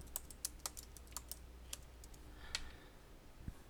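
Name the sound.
typing on a computer keyboard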